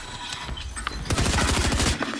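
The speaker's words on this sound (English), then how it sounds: "Where did that shooting come from?" Rapid bursts of gunfire in an online shooter video game, loud and close, starting sparse then breaking into a dense volley of automatic shots for about a second before easing off, over a constant background of game ambience.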